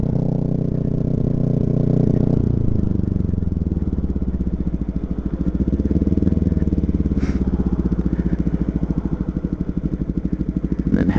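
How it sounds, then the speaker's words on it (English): Motorcycle engine running on about three-quarter choke in sub-zero cold, a close, loud, steady chugging idle whose pitch drops slightly early on then keeps a rough, even pulse. "Doesn't want to run on anything except for about 3/4 choke."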